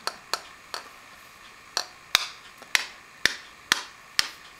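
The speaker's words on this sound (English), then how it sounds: "We will crack the eggs" Eggs are tapped against a hard edge to crack them, giving about ten sharp, close taps in a fairly steady rhythm, each followed by a brief crackle.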